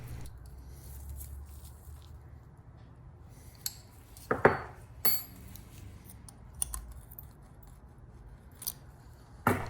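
A wrench works a valve adjuster on the 885 cylinder head of a BMW E30 M20 engine, giving sparse metallic clicks and ratcheting clinks in a quiet garage with no talk.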